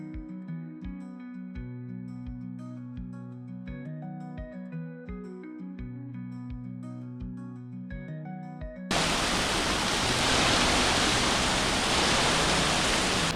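1,000 Drips Falls in the Great Smoky Mountains, running well after a rain storm, comes in as a loud, steady broadband rush for the last few seconds, after a stretch of unrelated music.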